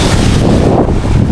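Loud rushing surf and wind buffeting the microphone on an island shore at high tide, strong waves churning close by with no voices.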